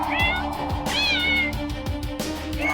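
A cat meows twice in clear, drawn-out cries over a steady background of rhythmic thumping and low hum.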